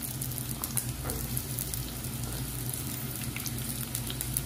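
Small shallots sizzling with ginger and garlic in hot oil for a fish-free fish curry, a steady, close crackling fry that runs evenly throughout with no talk.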